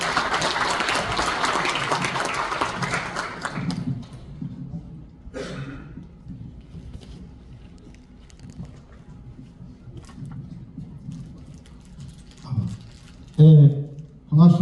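Union members at a 2023 labor union education assembly applaud warmly to welcome a lecturer from a food industry union. A dense burst of clapping lasts about four seconds, then fades into a quiet hall with scattered coughs and faint voices.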